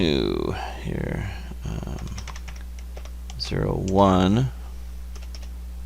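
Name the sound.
typing on a computer keyboard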